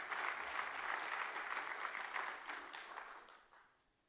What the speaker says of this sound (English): Applaud for her, she's the only one there.